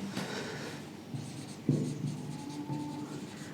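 Marker or chalk scratching on a board during a physics lesson, a steady close rasping stroke sound with a sharper tap midway, continuous and moderately loud, no voice.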